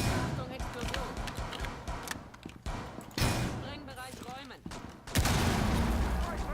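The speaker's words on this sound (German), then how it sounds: "Achtung, Explosion. Sprengbereich räumen." In Rainbow Six Siege, a Thermite breach charge blows through a reinforced wall. Sudden loud blasts come amid rapid gunfire and dense game noise, with players talking throughout.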